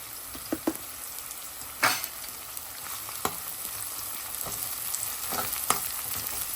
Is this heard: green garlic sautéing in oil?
yes